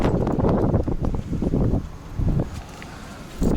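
The engine cooling fan on a Peugeot 407 with the EW10J4 four-cylinder, a V6 fan fitted through a damaged wiring harness, roars loudly and close in a fluctuating whooshing rush, with no voices.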